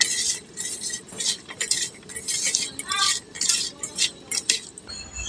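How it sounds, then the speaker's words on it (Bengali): Tengra fish is mixed by hand with salt and turmeric in a bowl, giving a steady run of soft wet squelches and light clinks against the bowl, close and fairly quiet, with no talk. "মাছটাকে মেখে নেব।"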